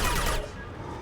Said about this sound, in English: Trying to shoot the gun.